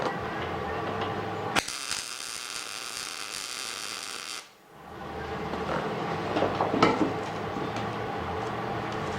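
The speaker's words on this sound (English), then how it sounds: "We're going to weld up this other side just a little bit more." Metal is welded in a workshop, with a steady crackling hiss lasting about three seconds that cuts in and out sharply against surrounding shop noise.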